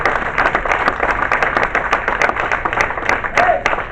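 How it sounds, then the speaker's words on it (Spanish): A congregation at an evangelistic church meeting claps loudly and rhythmically in unison, a dense crowd sound close and continuous, with voices mixed in beneath the clapping. "Aplauda al Rey de Reyes y Señor de Señores"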